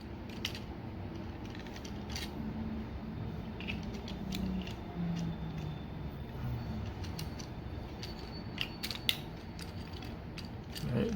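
Small plastic wheels being clicked and snapped back onto a Transformers Kingdom WFC Huffer toy, producing quiet ratcheting clicks and light plastic taps in an irregular rhythm, close and fairly faint, with no talking.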